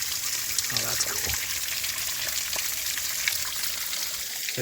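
A small waterfall running into a little stream among rock formations in Indiana woods, a steady close rushing trickle with a brief voice in the background.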